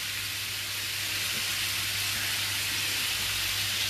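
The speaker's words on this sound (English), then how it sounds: "look at that salmon just sizzling away there" Salmon fillets sizzle steadily in a frying pan, a continuous loud hiss and crackle with a low hum beneath, close up and without any talking.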